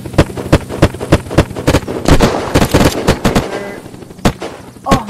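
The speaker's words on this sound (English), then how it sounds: "Okay, orders is to shoot it." Rapid bursts of gunfire ring out in the survival game Unturned, a dozen or so sharp, loud shots in uneven volleys, some quick doubles, standing alone without talk.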